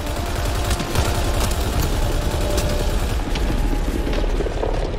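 Dense, continuous automatic gunfire from a Mass Effect Andromeda firefight rattles on steadily throughout, loud and busy with mechanical clatter.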